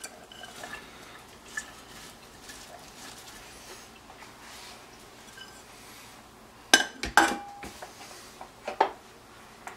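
Sliced potatoes, onions and celery go into a crockpot, with a quiet rustling that gives way to a burst of clinks, thuds and scrapes of food and utensil against the pot near the end.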